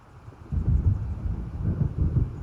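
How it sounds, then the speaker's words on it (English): Low rumbling thunder of an approaching storm in the video game Alan Wake rolls in after a quiet start, a sustained deep growl with swelling pulses, mixed with wind and no talk. "It seems there's a storm coming."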